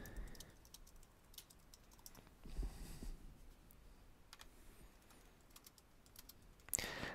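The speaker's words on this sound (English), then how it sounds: "as somebody is typing, it notifies me down at the bottom" Quiet clicking of computer keyboard keys comes in scattered light taps over a faint room background, with a louder clack near the end.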